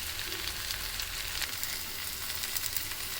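Oil heating in a kadai for North Karnataka menthe kadubu tempering gives a soft, steady sizzle and frying hiss, close by and continuous, with no talking.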